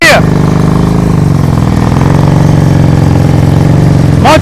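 Motorcycle engine at slow riding speed during a riding skills practice session, a steady loud mid-range drone with the throttle held up and rising slightly over time, with an instructor talking over it.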